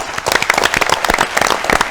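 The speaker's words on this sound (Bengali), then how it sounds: "এবার সকলের জন্য একবার জোরে হাততালি হয়ে যাক" An audience at an agricultural quiz show applauds all the competing teams together with a dense, loud, continuous patter of many hands clapping.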